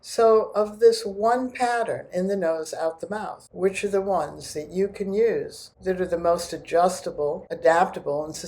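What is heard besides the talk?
No distinct noise like a dog, phone or traffic.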